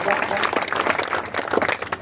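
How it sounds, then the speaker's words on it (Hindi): An audience at a political gathering in Moradabad claps to welcome a local ward president, with a brief burst of dense applause and voices speaking over it. "जोरदार तालियों से स्वागत करिए"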